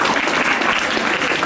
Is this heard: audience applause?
yes